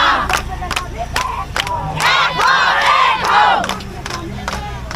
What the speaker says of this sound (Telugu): ఇక్కడ మీరు చూడొచ్చు ఎంతమంది జనం రోడ్లపైన స్ట్రైక్ చేస్తున్నారో.